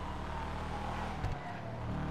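A car engine in Grand Theft Auto V drones steadily close by, a dense low rumble that holds even with a brief bump partway through and never fades.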